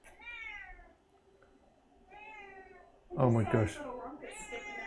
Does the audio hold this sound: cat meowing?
yes